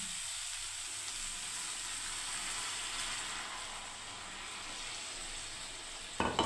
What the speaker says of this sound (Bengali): এবার আমি বন্ধুরা দেখুন জল দিয়ে দিচ্ছি।